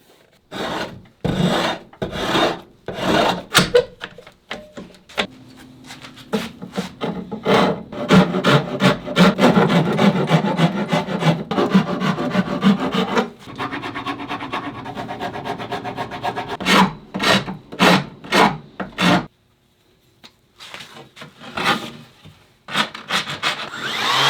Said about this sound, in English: Next I'll take some of the wood off of this part.